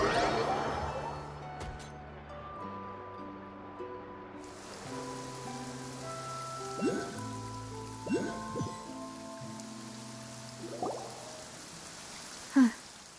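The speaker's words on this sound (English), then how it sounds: "It's been raining non-stop for a few days now." Steady rain falls across a Genshin Impact outdoor scene, a soft continuous wash under a layered musical score, with a sharp brief hit near the end.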